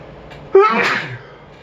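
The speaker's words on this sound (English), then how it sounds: "And I don't know why I'm sneezing." One abrupt human sneeze heard up close, a brief voiced onset bursting into a breathy blast that fades within about half a second, with no talking.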